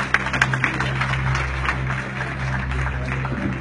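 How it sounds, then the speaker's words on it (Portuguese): A church congregation applauds together, a dense, steady patter of many hands clapping throughout, with some crowd voices faintly mixed in. "Os que podem, tomem o seu assento, aplaudindo a Jesus porque Ele é bom"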